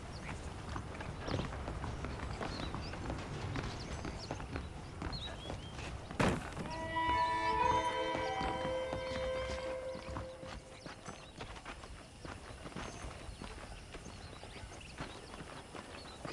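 Horse hooves clip-clopping at a walking pace throughout, with a horse whinnying briefly partway through over faint background ambience, from the video game Red Dead Redemption.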